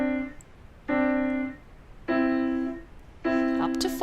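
Four slow piano note groups in a beginner finger exercise, each tone sustained about half a second then released, with clear gaps between; the last group slightly denser, played alone without talk.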